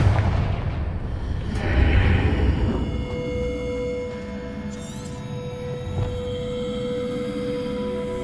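A Confringo blasting spell explodes in Hogwarts Legacy, giving a heavy boom with a broad low rumble that decays into a sustained hum and ringing tones, alone without talk.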